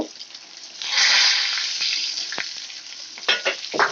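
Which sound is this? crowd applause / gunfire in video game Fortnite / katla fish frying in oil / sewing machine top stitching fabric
katla fish frying in oil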